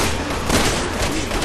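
Dense, continuous shootout gunfire from Resident Evil 6, a loud unbroken barrage of overlapping shots with no talking.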